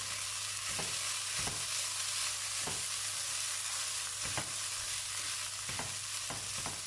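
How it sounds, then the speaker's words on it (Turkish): Rice and butter sizzle steadily in a hot pot while a utensil stirs and scrapes at intervals, with a constant background hiss and no voices. "tereyağı ilave ettim ve karıştırıyorum"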